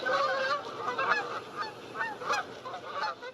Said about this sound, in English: Birds flying in a V.